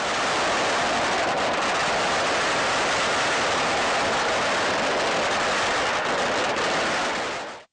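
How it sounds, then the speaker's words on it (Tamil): Heaps of firecrackers burst across a festival ground in a dense, unbroken roar of crackling explosions that stays loud for about seven seconds before cutting off abruptly. "மைதானம் முழுவதும் கொட்டி வைக்கப்பட்டிருந்த பட்டாசுகள் வெடிக்கு சத்தம் காதை பிளக்க"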